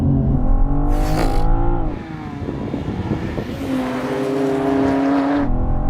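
BMW M4 cars accelerate hard off the line in a race. Loud engine revving rises through the gears, with a sharp pitch sweep and a brief whoosh as a car passes close by.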